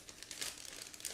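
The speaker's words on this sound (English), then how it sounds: "Next we have this separate plastic bag, which is used to store plastic sprue" A plastic bag that holds clear plastic sprue from an ICM 1/72 Do 17Z-2 model kit crinkles softly and close up, a quiet run of small rustles with no talk over it.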